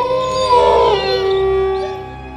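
Wolves howling at night in the woods, one long loud wavering howl that rises and then slowly fades, alone and close.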